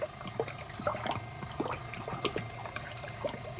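Water gurgles and splashes unevenly as it is pumped through a new Alloyworks racecar radiator for a Barracuda, close by with small drips and bubbling throughout.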